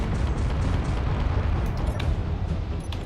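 Explosive cannon burst fire from a Space Engineers battle cannon mod, a dense continuous rumble of blasts with no gaps, loud and sustained throughout.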